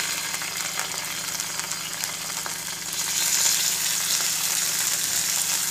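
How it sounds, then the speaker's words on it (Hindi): Sliced chicken frying in a pan for a breakfast sandwich gives a steady close sizzle that swells louder midway and then holds as a continuous bright hiss with soft crackling. "अब इसमें जो चिकन मैंने स्लाइस करके रखा था"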